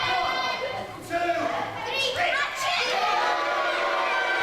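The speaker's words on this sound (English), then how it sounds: "crowd showing their displeasure to Lucian Maynard Smith." A live wrestling crowd at a W3L championship show voices its displeasure at a wrestler, a broad murmur of boos and shouting that swells and fades, with a commentator talking over it.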